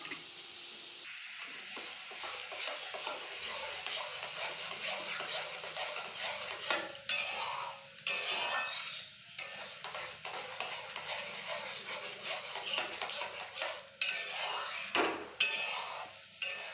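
Ghee being stirred in a pan on the stove, a continuous soft sizzle with scraping strokes and occasional clinks of the utensil against the metal, close by, with no talk.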